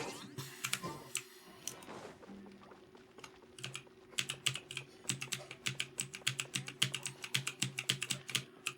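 Rapid keyboard key clicks and mouse clicks from a computer game setup, close and clear, starting sparse and then settling into a steady, fast patter of sharp taps over faint background music.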